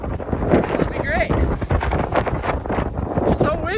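Gusty wind buffets the microphone with a constant low rumble while people talk over it, outdoors during a mountain run.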